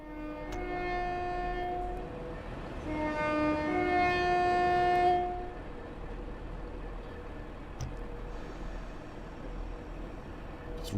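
A train horn sounds in the Train Sim World Fife Circle route: two sustained multi-tone blasts, the second longer and louder, over a steady rumbling diesel engine that keeps droning after the horn stops.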